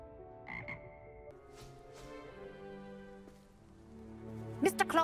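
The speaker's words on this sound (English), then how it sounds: "Frog choir." Frog choir croaking in Hogwarts Legacy video game, a few croaks early and a louder cluster of croaks at the end over soft layered tones.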